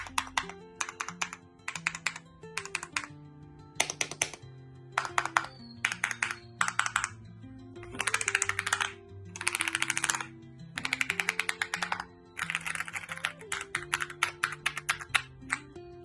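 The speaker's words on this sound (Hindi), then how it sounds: "मैकेनिकल कीबोर्ड दूसरा जिस चीज के फेमस है इसके ASMR साउंड के लिए" Typing on an AULA F75 wireless mechanical keyboard, close and crisp, with bursts of rapid clicky keystrokes separated by short pauses and no talking.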